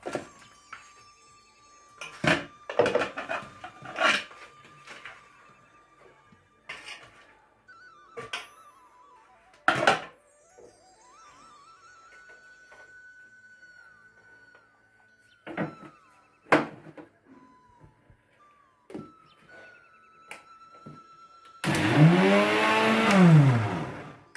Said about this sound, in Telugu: పాలకూరని వేసుకొని మిక్సీ వేసుకుందాం.